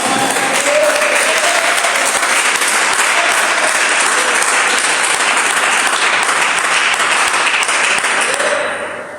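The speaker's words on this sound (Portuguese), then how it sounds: "dê uma salva de palmas para Jesus bem alegre" A church congregation claps loudly and continuously, a dense sustained roar of applause filling the hall before fading at the very end.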